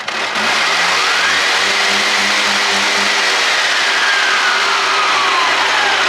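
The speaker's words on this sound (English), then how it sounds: "And it fires right up. It's really loud because two-stroke is good." A Polaris Sportsman 350 4x4 ATV's small two-stroke engine sputters to life and runs loud and close, its rough buzzing pitch rising and falling as it revs.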